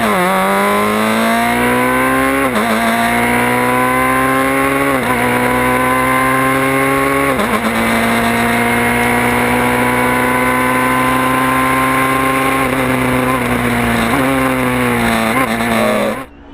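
A Formula BMW race car with a 1200cc BMW engine screams past at high revs, loud and close, its pitch climbing through repeated upshifts, each change marked by a brief dip before the next rising wail.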